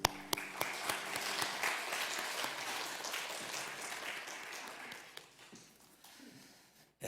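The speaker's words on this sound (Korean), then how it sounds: "우리 할렐루야 찬양대와 또 주일 경배 찬양팀 축복하고 격려하는 박수 하겠습니다" A church congregation applauds its choir and Sunday worship team, a dense sustained round of clapping from a crowd that fades out toward the end.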